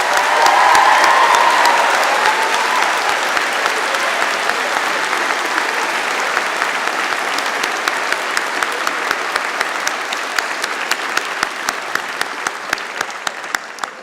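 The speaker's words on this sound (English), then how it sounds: "Please join me now in acknowledging them with a round of applause." Sustained, dense applause from a large audience at a university convocation ceremony as the stage party is acknowledged, filling the hall steadily for about fourteen seconds with a few sharper individual claps near the end.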